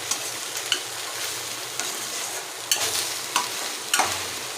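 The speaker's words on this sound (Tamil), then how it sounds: "இது மாதிரி கொஞ்சம் எடுத்து கிண்டிக்கிட்டே இருங்க ஃப்ரெண்ட்ஸ்" Okra sizzling in a pan while being stirred, with a steady frying hiss and repeated scraping clicks from the spoon.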